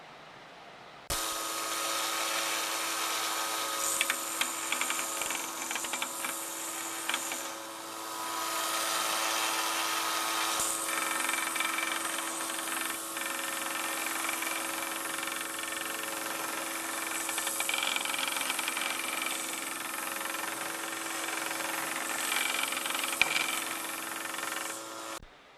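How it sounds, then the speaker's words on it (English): A power sander works over a wooden guitar body, its whirring grind rising and easing as it moves, while a dust collection system roars steadily underneath, close and continuous throughout. "then I'll sand it right here, and I've got my nice dust collection system rigged up there to keep the dust down"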